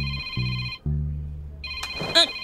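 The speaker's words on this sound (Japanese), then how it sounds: "ちょっと電話出てくるね。" A telephone ringtone in a Hypnosis Mic drama track, a repeating electronic melody played loud and close, briefly cut off and then resuming, with a short vocal sound near the end.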